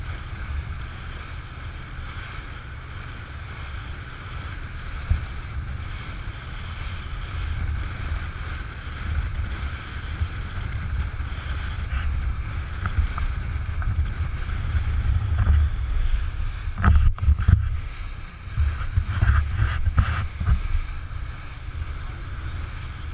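A modern boat moves across open water, giving a steady low rumble of engine and water with wind noise throughout and a few louder splashes near the end.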